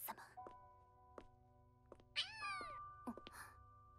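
A cat in the anime 86 Eighty-Six gives a short, rising meow amid a few brief thumps and faint tones in a quiet room.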